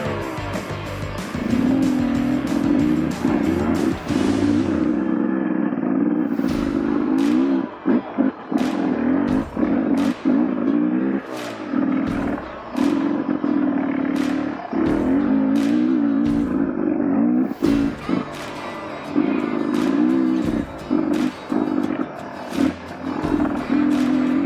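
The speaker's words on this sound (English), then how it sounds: "Cruising around by myself, getting time in the seat, getting used to this new exhaust." A 2023 Beta 300RR two-stroke dirt bike fitted with a new exhaust rides alone, its engine droning loud and close with constant revving, sharp throttle blips and gear changes across the whole stretch.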